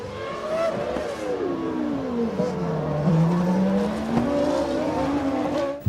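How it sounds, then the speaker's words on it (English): A Formula 1 race car from the 2000 season dives down the inside and into a gravel trap, its engine note swooping down and back up over several seconds amid loud, busy track noise. "Alesi survives a crazy move from Alex Wurz as the Austrian dives down the inside and straight into the gravel trap."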